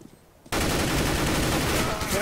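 Sustained, dense burst of video game gunfire bursts in suddenly after a brief quiet start and stays loud and continuous through the rest, with a voice faintly mixed in.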